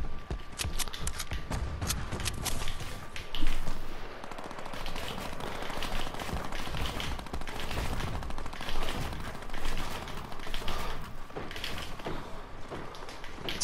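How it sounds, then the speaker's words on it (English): Rapid bursts of Tac SMG fire in Fortnite ring out repeatedly over about fourteen seconds, loud and close, in uneven clusters with brief gaps and no voices. "trying to shoot him from long range"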